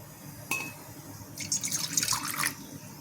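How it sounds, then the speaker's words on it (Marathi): Water is poured from a cup into a pan for sugar syrup while making dhokla: a brief clink, then about a second of splashing, trickling liquid, close and moderately loud with no speech. "मी थोडं पाणी घेते याच्यात"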